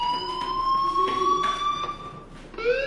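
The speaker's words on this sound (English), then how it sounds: "Hey, do you hear that fire alarm?" A fire alarm in the video game Life is Strange sounds loudly and steadily as an electronic tone, with a rising pitch shift near the end.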